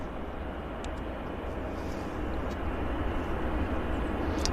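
Steady, loud broadband roar of an Air Canada Jazz CRJ regional jet at Vancouver airport, a continuous engine rumble holding level throughout with no voices over it.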